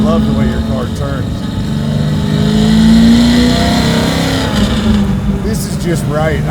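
A garage-built 1968 Camaro muscle car engine rumbles steadily as the car drives and turns, its pitch rising briefly midway, with people talking over it throughout.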